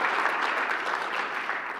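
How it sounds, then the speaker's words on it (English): Steady, dense applause from a conference audience, many hands clapping together at an even level throughout, with no pauses and no talk over it. "Let's a round of applause for Cray for sponsoring this, sponsoring OpenSFS."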